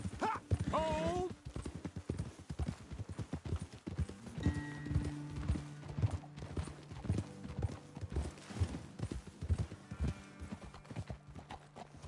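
Horses trotting in Red Dead Redemption 2, steady clip-clop hoofbeats running through the whole stretch with a brief whinny near the start and a game voice shouting at one point.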